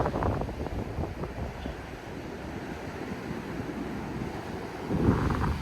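Ocean waves wash continuously against a sandbar at Hilton Head Island beach, with a low rumbling surge and steady wind noise, swelling slightly toward the end.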